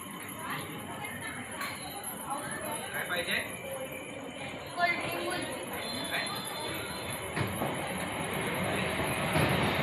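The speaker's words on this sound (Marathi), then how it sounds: "तुम्हाला आवाज वगैरे येत असेल तुम्हाला ट्रेनचा हे कर्जतवरून आलेली ट्रेन आहे" A train passing near Karjat sends a continuous distant rumble and clatter across the scene, with people talking nearby over the rail noise.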